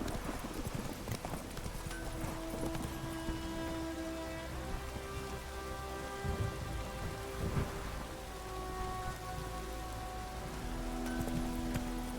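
Steady rain and rolling thunder in The Witcher 3, a constant hiss of falling rain with a couple of low thunder rumbles midway, plus faint hoof clops and tonal game music underneath.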